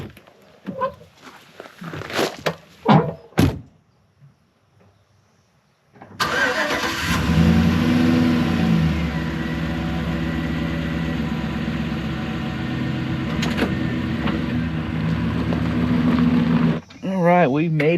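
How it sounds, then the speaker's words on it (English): An old truck's engine starts and then runs steadily at a loud, constant level for about ten seconds. A steady hum continues throughout, and brief bursts of voices and knocks come before and after. "Oh, I love this old truck. It's fun to drive around."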